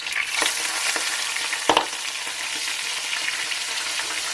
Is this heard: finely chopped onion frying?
yes